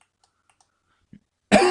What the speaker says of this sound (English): Oh, just by that cough